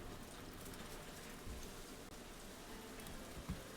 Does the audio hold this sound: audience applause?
no